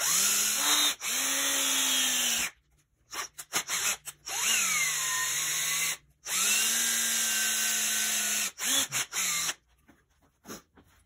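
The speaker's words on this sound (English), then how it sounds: "I have a mark in the block where I'm going to drill and tap my hole" A power drill whirs in several bursts, drilling into a bead roller's metal bearing block, pitch dipping under load, separated by short pauses and brief clicks and rattles.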